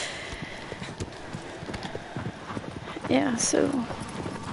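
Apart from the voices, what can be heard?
horse hooves in video game Shadow of the Colossus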